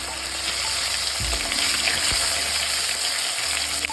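Steady oil sizzle and crackle of tomatoes frying in a pan for Bengali fish curry, constant and close, with a couple of low thumps partway through.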